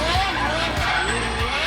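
A twin-turbo Ferrari F12 race car drives hard, its engine a loud continuous roar with shifting pitch and periodic low thumps, close and dense throughout.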